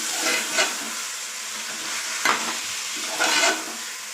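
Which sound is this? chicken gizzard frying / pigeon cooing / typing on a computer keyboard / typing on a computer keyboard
chicken gizzard frying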